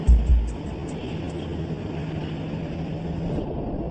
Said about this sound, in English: Airplane 701 is rolled out to the gate for the first flight of the day.